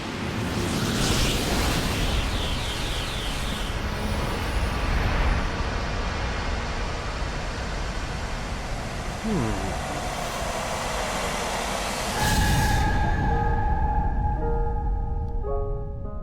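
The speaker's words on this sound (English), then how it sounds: "That's an odd explosion." An explosion in the video game Xenoblade Chronicles Definitive Edition: a dense, sustained rumbling roar that swells again near the end, then gives way to clear ringing tones.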